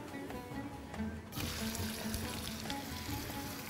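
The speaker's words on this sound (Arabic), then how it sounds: "هننزل بالبصل بتاعي" Onions drop into hot oil, the quiet background jumping into a steady bright crackling sizzle that continues evenly to the end.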